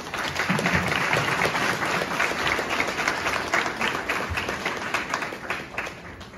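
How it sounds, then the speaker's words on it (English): Audience at a high school scholarship award ceremony applauding graduates, dense sustained clapping that is loud and close, gradually thinning toward the end. "That deserves a round of applause for all of y'all."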